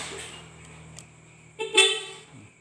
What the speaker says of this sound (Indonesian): Di klakson dia mau